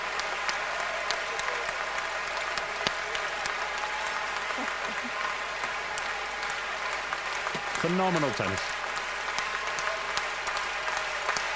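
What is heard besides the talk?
crowd applauding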